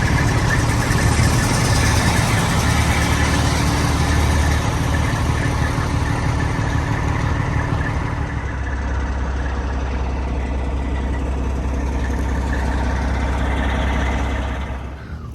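Close, loud diesel rumble of a bus engine idling as it warms up at a truck stop on the way to Daytona Bike Week, steady throughout, dropping slightly in pitch midway and fading at the end.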